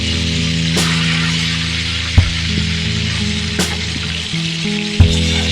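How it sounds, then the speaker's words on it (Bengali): Fish pieces fry in a pan, a steady close sizzle over a low electrical hum, punctuated by a few sharp clunks as the fish is turned over. "মাছটা এক সাইড ভাজা হয়ে গেছে"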